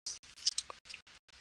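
Tarot cards being shuffled in quick riffling bursts, a series of short crisp clicks and rustles separated by brief pauses, close and fairly quiet.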